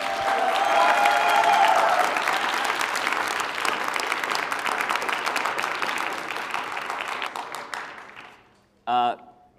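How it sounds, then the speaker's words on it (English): A final round of applause from a debate-night audience rings out loudly at first, then thins and fades to near silence, followed by a brief burst of sound near the end. "So one last round of applause for all those questions"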